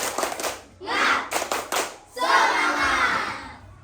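Schoolchildren do a rhythmic clapping chant together as an ice-breaker, with sharp clap bursts in quick groups and loud shouted voices in unison, close and lively in a classroom.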